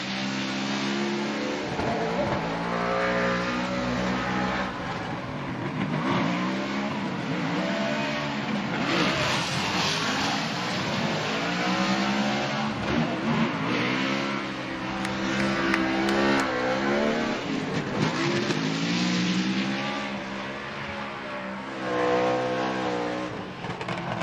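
A Ford Mustang drift car at a Formula Drift competition in Atlanta roars continuously at high revs with rising and falling pitch, tires squealing and screeching throughout as it drifts up close.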